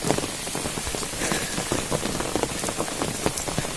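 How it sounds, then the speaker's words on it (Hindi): Heavy monsoon rain pours down in a village among fields, a dense and steady hiss with many drops pattering on nearby surfaces. It sounds close and loud, with nothing else audible. "बारिश जोरों से है"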